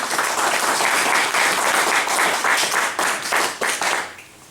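A hall audience gives a big round of applause as a speaker is welcomed at an evening talk, loud sustained clapping that tapers off near the end.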